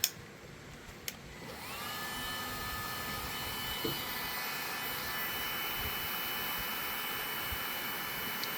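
A DeWalt 20-volt cordless heat gun, used to heat connector sleeves, whirs up after a short quiet start. It then settles into a loud, steady blowing roar with a faint whine on top that runs to the end.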